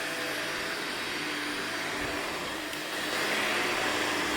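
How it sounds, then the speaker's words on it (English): A Shark Lift Away lightweight vacuum cleaner runs steadily indoors upstairs, a continuous close whirring drone that swells slightly louder toward the end. "This is a really nice lightweight vacuum cleaner"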